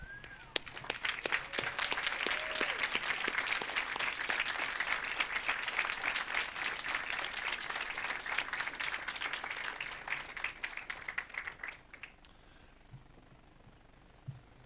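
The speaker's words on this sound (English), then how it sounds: "give your family a round of applause" Graduates at the Santa Fe Prep commencement applaud their families, a broad sustained wash of clapping from a large crowd that holds steady for about twelve seconds before thinning out into scattered claps and quiet.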